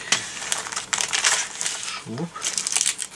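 A plastic bag holding parts for a Millennium Falcon model kit crinkles and rustles in several loud, close bursts, with someone briefly speaking between the handling sounds.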